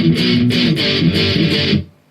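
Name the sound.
electric guitar power chords, song verse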